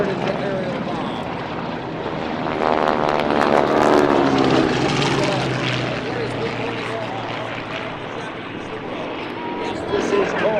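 A propeller dive bomber with a red tail diving overhead at an airshow, its engine roaring and droning as it comes down and passes, loud and sustained under an announcer's voice.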